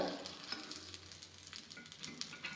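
Paddu, a Kannada dumpling, fries in a paddu pan with a soft, quiet sizzle and a few small clicks and taps as the pieces are turned.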